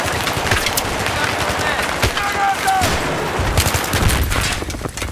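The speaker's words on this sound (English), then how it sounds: "There's guys shooting at us." Rapid gunfire bursts and scattered shots in a Battlefield 3 multiplayer match on the Epicenter map, dense and continuous with crackling impacts, faint voices mixed in.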